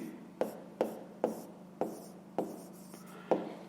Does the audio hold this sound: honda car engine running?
no